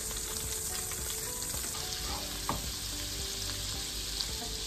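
Butter sizzling and frying in a hot pan used for searing beef for beef stroganoff, a steady, close, even crackle with a few small pops and no voices.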